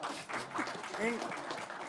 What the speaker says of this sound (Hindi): वेरी इंटेलिजेंट, प्लीज ताली बजा दीजिए।